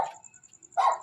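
A dog in a cemetery at night gives two short sharp barks, the first at the start and the second just under a second later, fairly close, with an electronic whine lingering between them.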